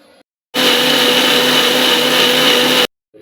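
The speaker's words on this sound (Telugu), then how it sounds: "నేను ఒకేసారి నీళ్ళు పోసుకొని మిక్సీ పట్టుకుంటున్నాను" An electric mixer grinder whirs through a paste blended with water, a loud steady motor drone that starts abruptly, runs evenly for about two seconds and cuts off sharply.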